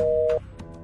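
An electronic phone tone sounds as a call is cut off: one steady, clear beep that stops abruptly, followed by quiet room noise.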